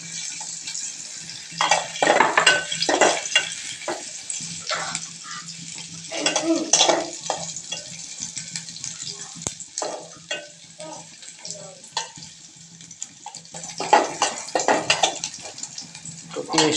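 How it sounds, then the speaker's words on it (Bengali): Onions fry in a pan for a brinjal and dried fish curry, an intermittent sizzle and stirring with occasional pan clatter, while a person talks over it. "তো পেঁয়াজটা একটু ভাজা হচ্ছে"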